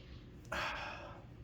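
A single close, sharp sniff at one's own arm, a quick breathy inhalation lasting about half a second against quiet room tone.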